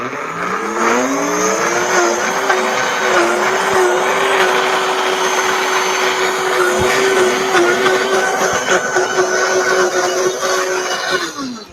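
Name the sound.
high-powered blender blending pears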